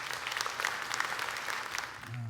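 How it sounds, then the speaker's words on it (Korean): A church congregation claps to welcome a pastor, steady dense applause from a large room at moderate distance, continuous for a couple of seconds. "박수로 환영하시겠습니다."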